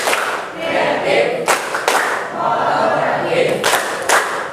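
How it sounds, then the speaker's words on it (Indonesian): A classroom of students performs a rhythmic spirit clap in unison, with several sharp bursts of clapping cutting through loud, continuous chanting and voices close by. "Yuk, 3, 2, 1, tepuk semangat."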